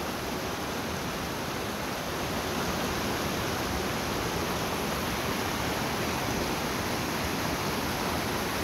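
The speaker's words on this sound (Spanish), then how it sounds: "ahí pasa el río." A river flows beneath a hammock suspension bridge near Caquil, Joyabaj, Quiché, running low in the dry season; a steady, dense rushing wash of water fills the whole stretch without pause.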